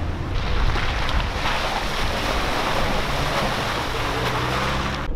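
White water on a river crossing tumbles over a large boulder, a loud, continuous broadband rush mixed with gusty wind buffeting the microphone, with no talking.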